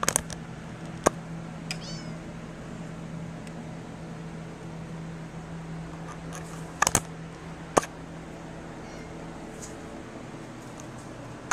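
A pet cat gives a few faint, brief meows over a low steady room hum, with scattered small knocks around them.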